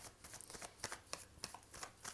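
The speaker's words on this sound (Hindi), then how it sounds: "मैं शफलिंग कर रही हूँ।" Tarot cards are shuffled by hand in a quiet room, a soft, rapid riffling with regular bursts of flicking, close and faint, with no voices.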